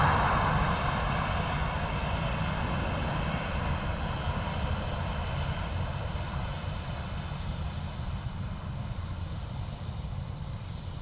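A Ryanair airliner arriving at Dublin Airport from Nice produces a continuous engine whine and broadband roar, fairly steady and moderately loud, fading slightly toward the end with no voices present.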